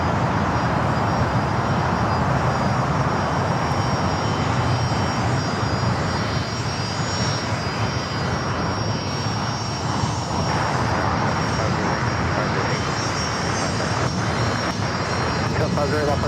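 An arriving jet at Los Angeles airport makes a sustained, loud engine roar throughout, with a speaking voice partly heard under the noise.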